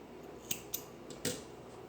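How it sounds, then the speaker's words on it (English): Scissors snip crochet yarn during work on a flower block: a few quiet, sharp clicks, two close together followed by a slightly louder cut, against a soft background hush. "Snip our yarn."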